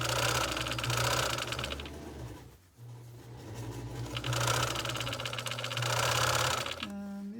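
A sewing machine stitching a Christmas stocking runs in two loud, rapid bursts separated by a short pause, its whirring and clatter close and clear.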